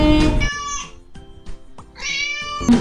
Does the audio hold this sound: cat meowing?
yes